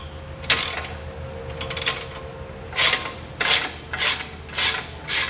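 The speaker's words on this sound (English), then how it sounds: "what we're going to do is loosen this bolt back up." A hand ratchet loosens a bolt on a Curt custom base plate fitted to a 2020 Jeep Wrangler frame, giving a series of close, rasping ratchet bursts spaced about half a second apart.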